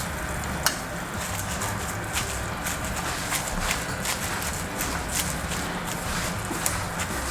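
Steady sizzling and stirring of beef, squash and fresh spinach cooking together in a pan, a continuous near, moderately loud frying hiss with small scraping clicks throughout.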